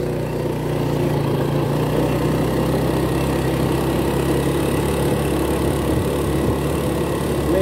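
A steady, low motorcycle engine idles nearby, rumbling evenly without revving for the whole stretch.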